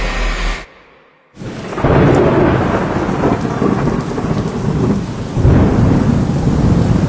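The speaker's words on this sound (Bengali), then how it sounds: "বাস স্ট্যান্ড থেকে কিছুটা দূরে একটা বাজ পড়ার শব্দ হলো। প্রবল জোরে বৃষ্টি হচ্ছে।" Heavy rain pours down steadily, with a thunderclap rumbling near a bus stand at night. A brief gap of near silence breaks the loud, dense downpour early on.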